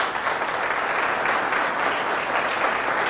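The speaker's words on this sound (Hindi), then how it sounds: "जोर से प्रभु के लिए ताली बजाएं।" A church congregation claps together in praise, a dense, loud, sustained wave of applause filling the room without pause for several seconds.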